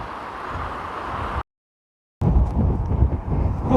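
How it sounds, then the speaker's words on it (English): Strong wind buffets the microphone on an exposed coast path between Treen and Penzance, a loud roaring gust that cuts out briefly and then returns just as hard. "Very windy here."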